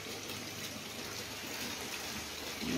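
Water rushes and gushes steadily as it is changed in fish hatchery tanks, a continuous broad splashing flow that stays loud throughout, with no talking.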